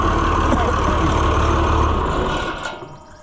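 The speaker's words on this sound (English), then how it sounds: "let's shut off the blower" The air system blower on a White 5100 planter runs as a loud, steady drone and then winds down as it is switched off, the roar fading over the last second.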